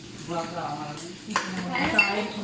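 Dishes, pots and pans clink and knock during late-night washing in a Saudi household kitchen, scattered close metallic and ceramic hits under a voice talking.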